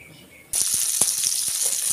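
Okra frying in oil in a pan for Andhra-style sour salan, a sudden loud, steady sizzle that starts abruptly and continues with small crackles and pops.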